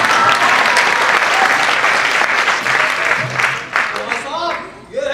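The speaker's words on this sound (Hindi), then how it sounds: "तालियां" A crowd breaks into loud applause at a comedy stage performance. The clapping is dense and sustained and only thins toward the end, with voices mixed in.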